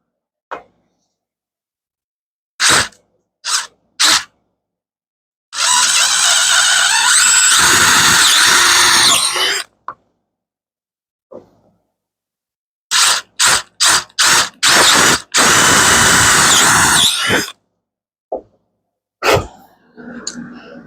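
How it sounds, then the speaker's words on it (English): A power drill whirs in two sustained bursts of several seconds each, drilling holes to make a lantern, separated by short blips of the trigger and quiet pauses, close and loud. "So take a drill right on the inside of where you're making that circle."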